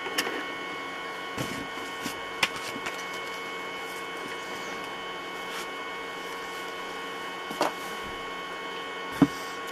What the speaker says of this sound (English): the hum in the background is the noise of my projector